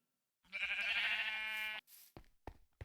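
A single drawn-out sheep bleat from the Minecraft TerraFirmaCraft video game, clear and close, followed by a few soft knocking clicks.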